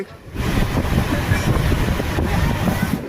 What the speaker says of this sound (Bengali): এই মুহূর্তে চলে গেল আমাদের সামনে থেকে বন্দে ভারত